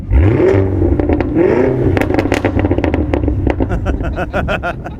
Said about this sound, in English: yeah, it definitely sounds like a throaty muscle car.